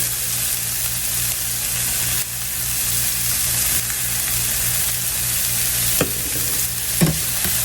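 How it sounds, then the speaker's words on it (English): Sausage fries in a pan for breakfast spinach wraps, a constant close sizzle broken by a couple of sharp spatula stirs and scrapes near the end, with no voices. "Give that a quick stir. Now, once your sausage is no longer pink and it's all done"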